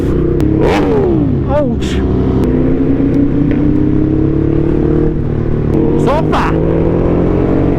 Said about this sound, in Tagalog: G7 ng Ducati Panigale guys, V4S.